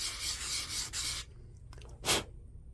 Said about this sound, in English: So I'm going to sand the backs of both of these the figure 8.